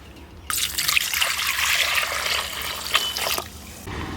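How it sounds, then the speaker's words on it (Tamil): Soaked tamarind squeezed by hand in a bowl of water makes a wet, sloshing trickle that starts abruptly and runs for about three seconds before stopping, close and alone. "ஊற வச்ச புளியை நல்லா கரைச்சிக்கிறலாம். இப்படி கை வச்சு நல்லா கரைச்சி"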